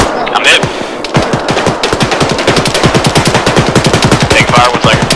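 Rapid automatic gunfire in a video game fires in a dense, loud, close run of shots that carries through the whole stretch, with brief bursts of other game sounds near the start.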